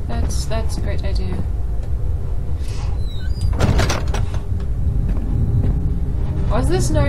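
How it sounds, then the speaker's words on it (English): A heavy door in the video game Amnesia: The Dark Descent slides and thuds shut with a loud rumbling scrape midway, set against a low ambient drone, and a voice talks around it. "Close the door."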